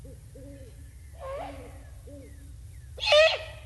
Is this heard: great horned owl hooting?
yes